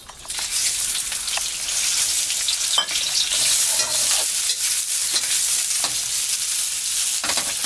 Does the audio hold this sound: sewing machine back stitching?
no